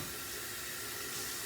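Tap water runs steadily into a kitchen sink while dishes are washed during stir-fry cooking, a constant close hissing gush with no pauses and no talking.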